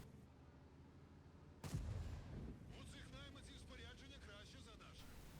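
In a video game, a heavy tank cannon blast booms out, followed by an enemy tank's ammo rack exploding, a rumbling engine and rattling mechanical noise.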